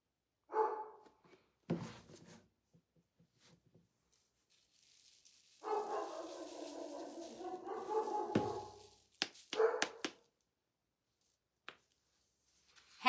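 Pet dog barking at something outside, a few sharp separate barks followed by a longer stretch of agitated vocalizing, then more scattered barks with quiet pauses between them, fairly close in a quiet indoor room.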